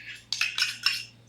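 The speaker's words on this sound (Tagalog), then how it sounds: "paghaluin lang natin yan siyang mabuti hanggang magpantay yung yogurt at saka yung ranch dressing sauce." Yogurt and ranch dressing being stirred together in a bowl for a za'atar salad sauce, heard as a few short, light clinks and scrapes of a utensil against the dish in quick succession.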